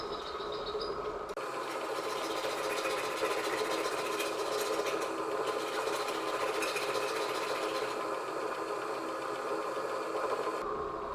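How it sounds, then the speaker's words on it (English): A die filer machine reciprocates a traditional die file against a piece of aluminum, making a steady, continuous mechanical buzzing and rasping that holds at even loudness from start to finish with no talk. "Here you see it filing a piece of aluminum with a traditional die file"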